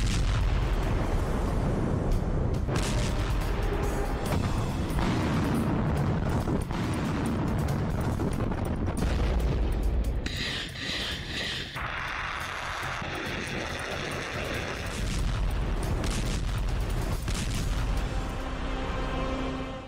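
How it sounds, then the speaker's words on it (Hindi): A massive Russian nuclear test explosion rumbles on and on as a deep, roaring blast that swells and churns for many seconds, loud and sustained without any voices. "ये डरावना वीडियो रूस के परमाणु परीक्षण का है।"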